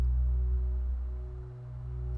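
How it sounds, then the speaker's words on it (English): A slow, sustained synth bass tone from GarageBand's Subby Bass preset holds low and steady, swelling and dipping slightly in level with no other sounds. "we're going to be playing a simple, slow bass tone throughout"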